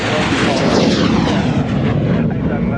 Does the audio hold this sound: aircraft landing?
yes